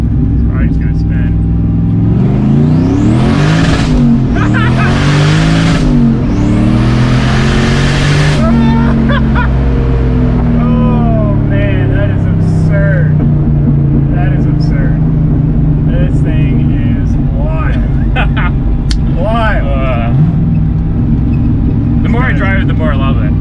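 Modified 650whp 1989 Volvo sleeper launching in first gear: engine revs climb sharply in repeated loud sweeps, then settles into a rough, loud drone, with people talking inside the car throughout.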